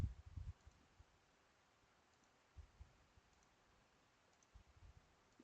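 Faint computer mouse clicks sound in a quiet room, with a small cluster at the start and a few isolated taps spread across the stretch.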